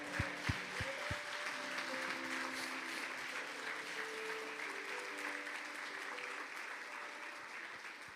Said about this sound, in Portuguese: Vamos dar um grande sorriso e um aplauso para Jesus